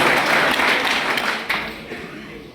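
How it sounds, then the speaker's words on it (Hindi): A crowd at a Congress rally in Behror claps in honour of Lalu ji, a burst of close, dense applause that swells briefly and then tapers off. "उनका भी सम्मान में ताली बजनी चाहिए।"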